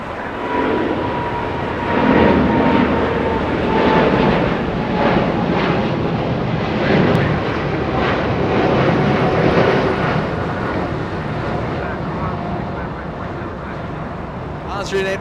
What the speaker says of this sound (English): Austrian 82 lifting off in spectacular fashion